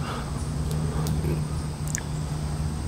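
Outdoor road noise with a car passing nearby, a low steady engine hum and rumble with faint intermittent higher clicks, moderately loud and without speech.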